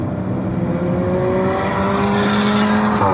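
A race car runs on track during an SCCA session, its engine a loud, continuous, slowly rising drone heard from inside the car, with a steady, even tone throughout.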